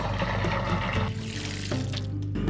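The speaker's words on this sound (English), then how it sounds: "we're gonna see if we can add a little bit of water to it" Water poured into a dry P-trap during a roof rat job, a loud, continuous splashing trickle with a brief break partway through, no talk.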